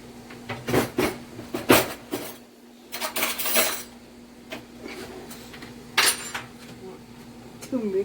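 Metal spoon clinking and scraping in a pot while mixing birria ingredients in a home kitchen, with irregular sharp knocks over a steady low hum and some quiet talk.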